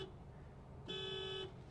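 Horn of a 2024 Honda Amaze sounding once for about half a second, a steady mid-pitched honk rising over quiet road rumble from the moving car.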